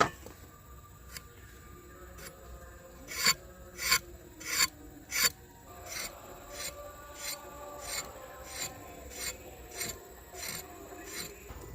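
Rasping strokes of a peeler scraping the skin off pointed gourds (potol) in a kitchen, a few loud sharp scrapes followed by a steady run of lighter rhythmic scrapes, close up with no talking.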